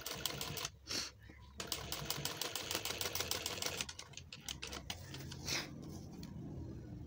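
A sewing machine stitching chain stitch embroidery runs in fast, steady rattling bursts with brief pauses, close and fairly quiet.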